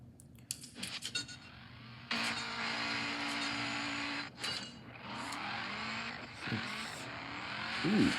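Race car in the Apple Arcade racing game Gears Club on an iPhone 15 Pro Max, engine revving up and holding a sustained high drone after a short start, ending with a brief rising surge.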